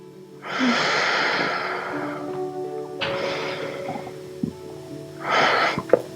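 Deep yoga breaths during a slow flow, with a long audible inhale and exhale through the nose and mouth, then another full breath, close and unhurried, with soft music faintly underneath.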